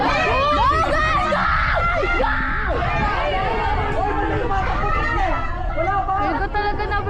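Spectators at a youth football district meet final shout, cheer and scream continuously, a dense crowd roar of many overlapping voices with children's high shouts rising and falling close by.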